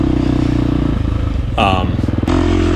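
A KTM 350 XC-F dirt bike rides a dusty, rocky trail at Graves Mountain during an off-road race, its engine buzzing loudly and close, briefly dipping and revving, with talking over it.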